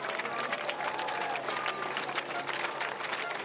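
A crowd at a sailors' parade and dock-out in Cardiff applauds and cheers for a sailing crew, a continuous wash of clapping and voices heard from some distance, even and sustained.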